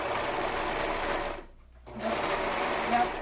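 A serger sewing machine runs in a steady, loud mechanical whir, stops briefly for a moment of near silence, then starts whirring again.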